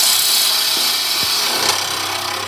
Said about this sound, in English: So I'm cutting into uneven timber, but now I've already got solid timber, so the bevel of the tool is now rubbing